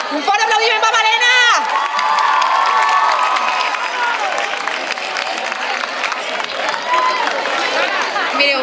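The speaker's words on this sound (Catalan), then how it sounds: "Un fort aplaudiment per Malena!" An audience at a Women's Week event cheers and applauds for Malena, a broadband burst of clapping and whoops with a voice calling out over the start, then a sustained loud crowd roar with shouts through to the end.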